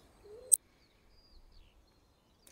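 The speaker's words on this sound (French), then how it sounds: "j'aime à écouter les oiseaux du matin" Morning birds outdoors in a quiet setting: a few faint, sparse chirps and one sharp, brief call, with long near-silent gaps between them.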